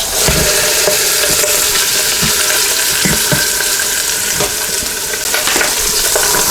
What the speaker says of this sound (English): Sizzling up pretty good in there